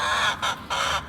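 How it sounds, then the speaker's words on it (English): Chickens call outdoors on a morning farmyard, with three short, loud, close squawks separated by brief pauses and no talking. "these chickens are talking to us this morning"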